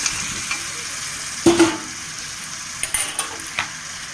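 Fried potatoes drop with a soft thud into a sizzling crab curry masala and are stirred through, spatula scrapes and knocks sounding over a steady close frying hiss.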